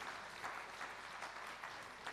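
A conference audience applauds steadily, many hands clapping in a dense, even patter, heard at a distance and fairly quiet.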